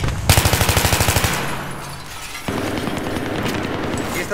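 Rapid automatic gunfire in the Battlefield 3 video game, a loud burst of regular shots for about a second, then quieter rumbling game ambience and distant firing with no talk.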